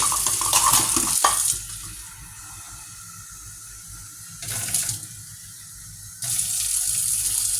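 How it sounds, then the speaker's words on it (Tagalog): Water from a tap or poured glass runs into a pot of milkfish being cooked in a pressure cooker, a close splashing stream in three bursts separated by quieter pauses. "Tapos maglagay po tayo ng tubig. Isang basong tubig."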